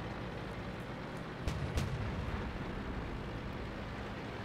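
Tank cannon fire in the World of Tanks video game, a heavy booming shot landing around the middle, with its rumble fading over a dense, steady low engine drone.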